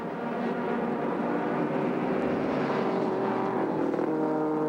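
An F Production race car at the 2001 SCCA Runoffs roars past on track, a steady high engine note that swells slightly as it passes, heard alone at moderate distance.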